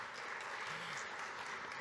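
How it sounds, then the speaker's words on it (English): Closing applause for panelists at a cyber insurance summit during Black Hat: brief, steady clapping from an audience, heard fairly faint and even throughout. "Please, a round of applause for our panelists here."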